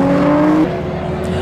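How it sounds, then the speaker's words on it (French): Race car engines drone nearby on a circuit with a steady whine that dips as one passes, a constant motorized hum filling the background. "les voitures qui passent sur le circuit derrière"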